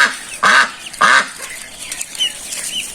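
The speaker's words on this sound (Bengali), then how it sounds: "এই যে আমার এই বেজিং হাঁসের বাচ্চা" Pekin ducklings, hatched under a hen in a village yard, give two loud, close quacking calls in quick succession, then softer scattered peeps and chirps follow without any talking.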